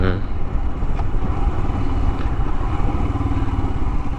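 A Royal Enfield Himalayan motorcycle engine running close by, a loud steady low rumble with a rhythmic throb, stopped beside an airfield memorial.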